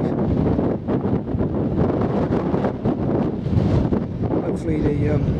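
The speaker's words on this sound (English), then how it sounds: "I am continuing with a pretty strong wind" Strong wind of around 50 knots buffeting a microphone on a country walk, a continuous loud roaring rumble with gusty swells throughout and no clear voice.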